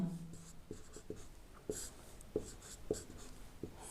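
Numbers being written by hand on paper during a math practice problem, a few quiet scratchy pen strokes and taps in an irregular rhythm, close by and faint, alone without talk.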